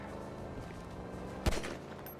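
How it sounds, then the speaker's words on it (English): A single sharp gunshot fired into the air in GTA 5, one loud crack with a short tail over a steady bed of game background music. "So I'm just going to shoot my gun up in the air"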